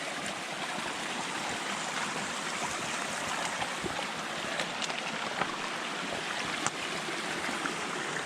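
Stream water at a rock-hopped crossing on a hiking trail, a steady close rushing and trickling flow with small splashy ticks, continuous and fairly soft throughout.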